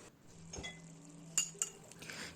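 A spoon clinks against a cooking pot while stirring chicken and sour yogurt with a little water over a medium flame, a few sharp metallic taps over soft scraping, close and quiet.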